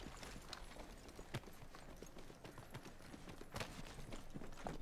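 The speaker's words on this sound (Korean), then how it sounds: "바로 앞에 발소리" Rapid footsteps in the battle royale game Apex Legends patter in a quick, uneven rhythm with a few sharper thuds. They sound faint and distant over a low, constant background hiss.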